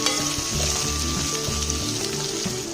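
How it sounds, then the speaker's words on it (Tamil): Ivy gourd sautéing in oil over medium heat, a steady loud sizzle and crackle with soft stirring scrapes running throughout without a break. "5 நிமிஷத்துக்கு நல்லா எண்ணெயிலேயே வதங்கட்டுங்க இந்த காய்."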